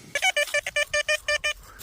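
A metal detector sounds its signal while someone searches along an old forest trail: a quick burst of about nine short, high electronic beeps in an uneven rhythm, clear and close, with no talking.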